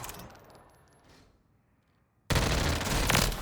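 The JAK Raven gun in a shooter video game fires a loud sustained burst that starts abruptly after a quiet stretch, following a fading tail of earlier shots.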